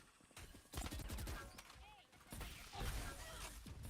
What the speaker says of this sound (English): They're going to take a couple shots at him.